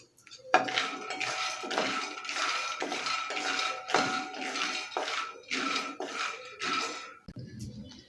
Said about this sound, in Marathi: शेंगदाणे आधी खरपूस भाजून घ्यायचे आहेत फुल गॅसवरती